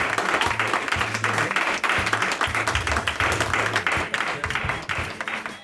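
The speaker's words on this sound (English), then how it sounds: "Have a big round of applause for the guys there." Audience applause at a Herts Comic Con panel, steady dense clapping that carries on throughout under a low hum of music or crowd noise.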